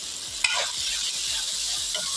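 Spices and ground chili are stirred into a sizzling mixture in a pan for spicy boneless chicken, with one quick scrape early on and a steady fry hiss throughout.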